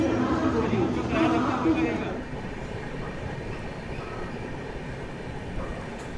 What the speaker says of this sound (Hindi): क्या खूबसूरत लोकोमोटिव के साथ यहाँ ट्रेन अराइवल ले रही है